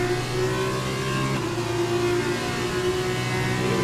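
An F2 race car engine accelerates through the Monaco chicane, a steady loud high-pitched whine that holds near and constant with a slight pitch shift partway through.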